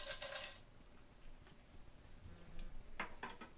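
Sliced almonds tossed in oil in a pan on a stove, heard as faint, brief scraping clatters of metal at the start and again near the end, with quiet stretches between.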